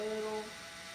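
A small drill bit bores into a hardwood walnut plaque, giving a steady high motor whine with tonal harmonics that fades after the first half second, close and alone.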